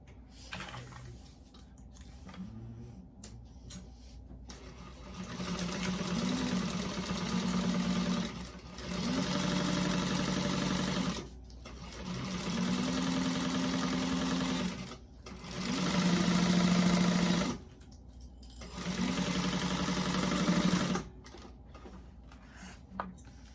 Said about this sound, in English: we're going to sew that together with a 1/4 inch seam allowance